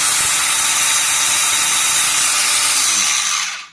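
A Parkside cordless angle grinder runs steadily at its highest speed setting, a loud, continuous high-pitched whine that holds throughout before cutting off abruptly at the very end.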